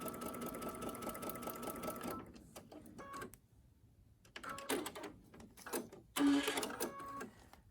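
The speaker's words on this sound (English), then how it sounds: "I'm going to go ahead and finish stitching" A sewing machine stitches quilt triangles in short bursts of fast whirring, broken by brief pauses, with soft handling clicks between runs, heard close up.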